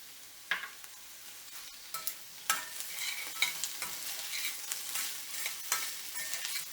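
Chopped cherry tomatoes sauté in a pan for a quick fish curry, making a soft, steady sizzle punctuated by several spoon scrapes and taps at irregular intervals, with no voices.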